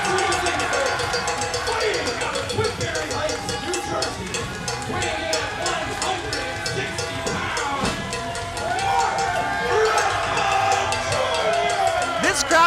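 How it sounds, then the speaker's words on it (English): A lively wrestling crowd at a Friday night show cheers and whoops, a busy wash of voices with clapping and shouts that swells toward the end, loud and close throughout. "This crowd is nuts."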